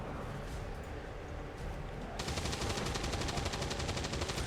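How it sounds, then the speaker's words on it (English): Soldiers' gunfire in the video game XCOM 2: a steady background rumble gives way to a dense, fast automatic burst that rattles on continuously and loud for the last couple of seconds, with no talking. "let's let the others do some shooting"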